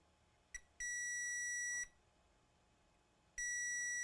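A multimeter in diode mode beeps while testing a NerdQaxe++ mining board with a short circuit: a sharp click, then a steady high tone lasting about a second, and another tone starting near the end, all close and clear over quiet background.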